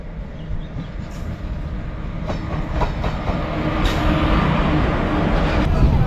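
The Mandovi Express rumbles steadily on the rails on the Konkan Railway, with a low roar building in loudness, a few clicks and clacks marking the wheels.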